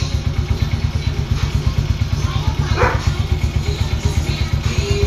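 A motorcycle fitted with a stainless 3-in-1 double elbow exhaust pipe runs loud and close with a fast, steady, pulsing engine throb, and a brief rise partway through as the throttle is twisted.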